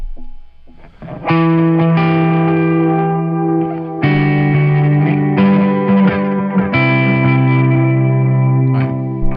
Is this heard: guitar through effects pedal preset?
yes